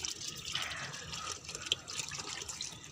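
Wheat grains being washed by hand in water, with continuous close splashing and swishing that rises and falls throughout, and no talking.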